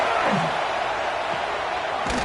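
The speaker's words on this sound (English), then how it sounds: "the crowd really making some noise now, trying to help out this defense to get this stop near the goal line" Stadium crowd roaring at a college football game between Texas A&M and Notre Dame near the goal line, a dense, steady wall of cheering noise with a commentator's voice faintly over it.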